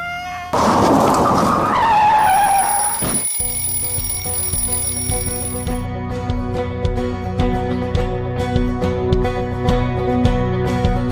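A truck's tires squeal in a loud, rising screech lasting a few seconds, then cut off abruptly into sustained ringing tones and scattered clattering hits.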